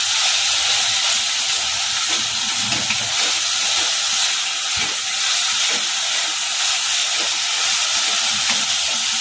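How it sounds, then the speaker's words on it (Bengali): Dry masala okra (bhindi) cooks in a pan with a constant loud hiss, while a spatula scrapes and turns it every few seconds; no one speaks. "নাড়তে নাড়তে একেবারে শুকনো করবো আমি।"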